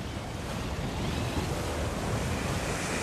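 Strong wind gusts roar over open sea at the start of a Transat Jacques Vabre sailing race, with ULTIM, Ocean 50 and Class 40 boats; a steady, loud rush of wind and surf with microphone buffeting and no talk.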